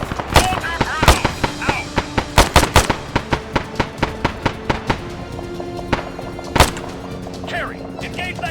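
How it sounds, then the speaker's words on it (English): Machine gun fire in the military shooter ArmA 3 rattles in sharp bursts of rapid shots with scattered single cracks and echoes, fairly close and loud over background radio chatter. "Kerry, engage that machine gunner."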